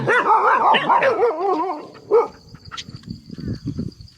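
Dogs bark loudly and close by in a rapid burst of several barks, then fall to softer whimpers, yips and scattered smaller noises.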